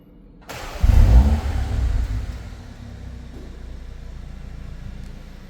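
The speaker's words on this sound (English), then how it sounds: "So that is your remote engine start, cold start sound." A 2026 BMW X1 M35i cold-starts by remote key, its engine catching with a loud rising rev flare that settles into a steady, slightly elevated idle, heard close by from outside the car.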